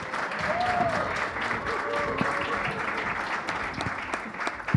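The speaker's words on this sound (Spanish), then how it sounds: "Un fuerte aplauso." An audience in a hall at a conference talk show applauds steadily, a dense, even wash of many hands clapping for several seconds.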